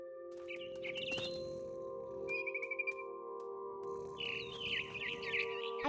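Mama bird chirping in the video game What Remains of Edith Finch, short bright tweets and trills scattered over a sustained ambient musical drone, fairly soft.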